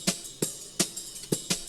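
Percussion loop from a song production, five sharp, bright hits in a slightly uneven rhythm, each a snappy broadband transient with a little low thump, loud and dry with no voices.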